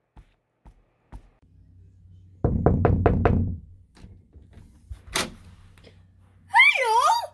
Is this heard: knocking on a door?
yes